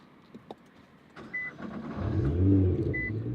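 A 2013 Nissan GT-R engine starts and revs up, rumbling louder toward the end, preceded by a few clicks and a short electronic chime; no voices.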